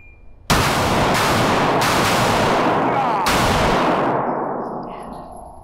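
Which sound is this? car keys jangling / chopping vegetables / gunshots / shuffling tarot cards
gunshots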